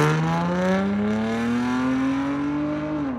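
A car's 3.0 VTEC engine runs close by, its smooth, even tone rising steadily in pitch as it revs up, then easing off slightly at the end.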